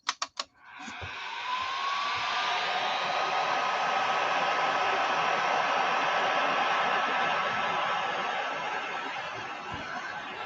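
A heat gun blows steadily for several seconds while shrinking heat shrink tubing over wire pins, preceded by a few sharp clicks as it starts. The whir is close and continuous, easing slightly toward the end.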